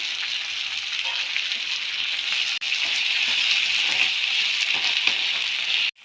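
Chutney ingredients with curry leaves and jaggery syrup fry in a pan, a steady bright sizzle with occasional soft stirring scrapes, close and continuous until it cuts off near the end.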